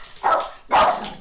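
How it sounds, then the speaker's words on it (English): A pet dog barks twice nearby, two loud, rough barks over a steady background hum of video game audio. "it's my dog."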